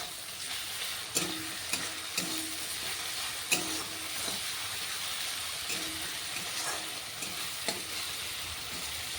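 Ginger garlic paste frying in a pan for a Bengali katla kalia, with a steady close sizzle and hiss broken by occasional scraping stirs.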